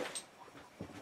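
Two dogs playing together indoors, giving a couple of soft whimpers and faint yips, quiet and brief, with no talk over them.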